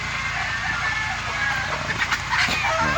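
Chickens cluck close by in a busy, overlapping chorus, with a few louder calls standing out.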